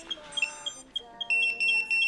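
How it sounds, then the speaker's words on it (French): A series of short, high electronic beeps from an Eachine EV100 video receiver scanning channels repeats in an uneven pattern, ending in a few longer sustained tones, fairly quiet and close. "les bip, bip que vous entendez, c'est le scan"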